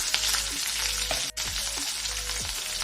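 Chopped onion fries in a pan for Andhra-style palak pappu, giving a steady close sizzle broken by a few stirring scrapes and one brief dropout, with no speech.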